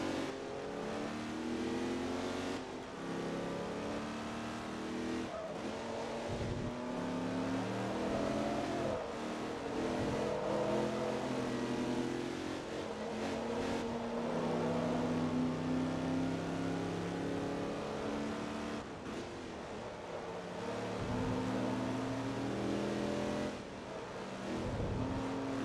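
Race car engines roar and rev in Forza Motorsport 2, including a Ferrari, with continuous loud engine drone, rising and falling gear-change sweeps, and cars accelerating and passing.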